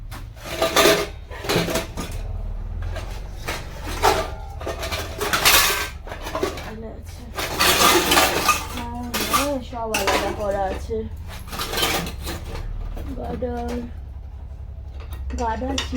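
Metal pots and pans clank and scrape in repeated bursts while someone rummages through cookware for a pressure cooker lid, close by, with a person talking between the clatters.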